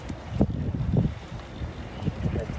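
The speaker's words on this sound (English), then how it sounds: "It's a little bit windy." Wind gusts outdoors, buffeting and rumbling against the microphone in uneven low surges, fairly loud, with brief faint sounds under the blowing.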